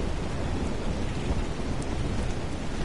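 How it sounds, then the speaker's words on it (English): Heavy rain with rolling thunder in the video game Ark Survival Evolved, a dense, unbroken roar of downpour filling the whole stretch, loud and without speech. "I can't even hear myself over this rain"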